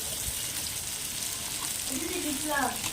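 Onion, whole cumin, bay leaf and dried chilli sizzle in hot oil in a wok, a steady close frying hiss running throughout with a brief clink near the end.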